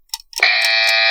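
A loud, steady electronic buzzer marks the end of a timed round on a fantasy football quiz show, sounding continuously after a few short beeps.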